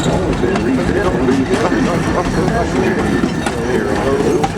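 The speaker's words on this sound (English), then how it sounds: "Train coming down the road." A narrow gauge train on the Georgetown Loop Railroad rolls past with a steady, loud rumble and faint rhythmic clatter, while a voice narrates over it.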